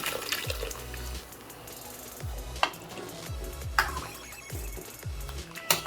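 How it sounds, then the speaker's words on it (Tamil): Cooked sambar poured into a pot of sautéed banana stem and stirred, giving a steady liquid slosh and sizzle with several sharp spoon scrapes and knocks against the vessel, close and moderately loud. "இப்போது காயெல்லாம் வெந்த சாம்பார் அப்படி எடுத்து ஊற்றிடலாம்."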